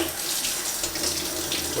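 Tap water runs steadily into a sink during home slide film developing, a close, even hiss of splashing water with no voices.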